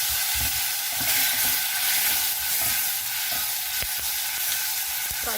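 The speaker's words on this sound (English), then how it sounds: "Fry for some time." Tomatoes frying in a pan with turmeric, red chilies and tempered spices for mildly spiced dal rasam give a steady, close sizzle, broken by occasional scrapes and light stirring knocks.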